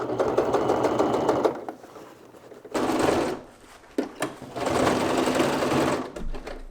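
A sewing machine backstitches along the full circumference of a bag's roll top, running in two close, loud bursts with a short pause between them, then a brief run of stitching near the end.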